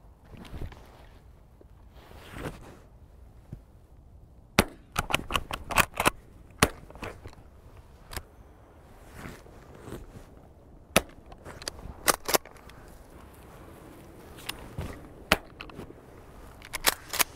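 A .410 shotgun fires Eley Hawk cartridges at pigeons from a hide, sharp but fairly quiet cracks scattered irregularly across the stretch, some in quick clusters, over a faint outdoor background.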